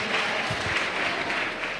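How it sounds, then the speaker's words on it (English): Church congregation clapping for Jesus at an Easter service, a brief, soft wash of many hands clapping together, heard at a distance and fairly even throughout. "In my turn clap to Jesus."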